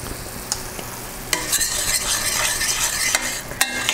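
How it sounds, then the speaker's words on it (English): Honey is stirred into a sweet and spicy garlic butter shrimp sauce in a pan, close bubbling sizzle broken by several sharp utensil clicks against the pan, with no talk. "And just mix that all in."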